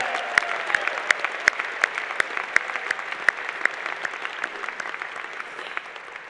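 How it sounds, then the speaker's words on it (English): An audience at a college commencement ceremony claps steadily for a speaker, a dense patter of many hands with a few sharp close claps, fading slightly toward the end. "can we give David just one more round of applause?"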